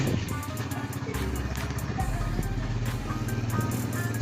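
A motorcycle setting off through the narrow old-city lanes of Lahore, its engine puttering low and steady under faint street noise.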